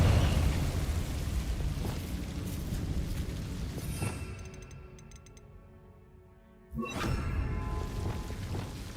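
Fire spell blasts from Confringo in the Hogwarts Legacy video game: a rumbling explosive roar fades over several seconds, then a fresh sharp burst hits and swells back up into continuous crackling rumble.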